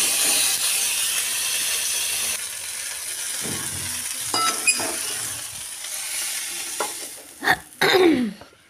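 Onion and tomato fry in oil in a pan for a Bengali fish curry, a steady close sizzle and hiss with a few stirring scrapes and clanks near the end.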